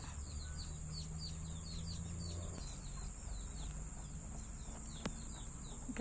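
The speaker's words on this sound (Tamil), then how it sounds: "எல்லாம் கோழியெல்லாம் கூண்டுக்குள்ளே அடைகிறதுக்கு ரெடி ஆகிட்டுருக்கு." Chicks peep repeatedly in high, rapid chirps while hens cluck softly near the coop at dusk, over a constant high-pitched hiss of insects in the background.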